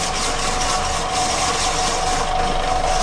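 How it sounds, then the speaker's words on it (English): A street vendor's ice shaving machine spins and grinds a block of ice at Juhu Beach in Mumbai, a loud continuous mechanical whirring and rasping with no pauses. "he's spinning the ice. Get some ice shavings."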